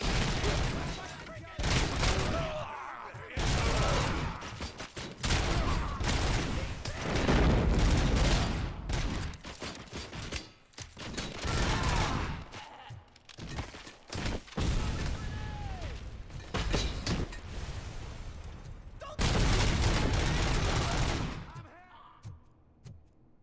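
Sustained video-game gunfire from Robocop: Rogue City, with dense bursts of shots and automatic fire loud and close, broken by brief pauses, and some voices shouting in the mix.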